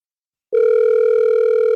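A steady electronic telephone tone sounds on a radio call-in show as a call goes unanswered, starting abruptly and holding loud and unbroken with no talk.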